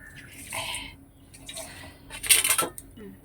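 A pot of whole lote fish set on a stove and covered with its lid, a few close metallic clanks and scrapes of cookware, the loudest burst near the end, with no talk.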